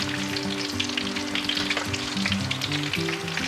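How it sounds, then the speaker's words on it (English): Coconut shrimp fry in oil over medium heat, producing a dense, continuous sizzle and crackle that stays loud and even throughout, with no talking. "I'm frying this coconut shrimp in the medium heat."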